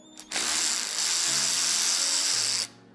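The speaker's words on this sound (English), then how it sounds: "we should be able to undo this bolt relatively easy because this has 60 foot-pounds of torque" An Alloyman cordless ratchet wrench running in reverse to undo a bolt, giving one steady, close, loud motorized whirr of a little over two seconds that starts and stops abruptly.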